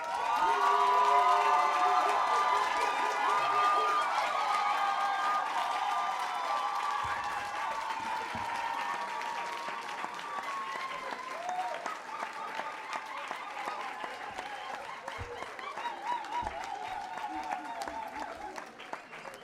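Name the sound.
audience applauding and cheering graduates at a ceremony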